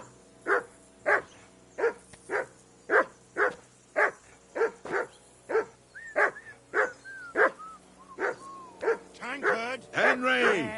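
A dog in the game Kingdom Come: Deliverance II barks repeatedly at a steady rhythm, loud and close, with about twenty barks that turn into yips and whimpers near the end.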